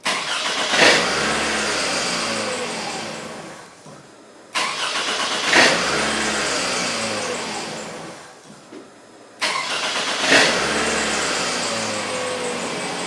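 A Toyota Solara engine cranks and catches three times in a row, each start followed by a few seconds of running before it cuts out abruptly; it starts then quits.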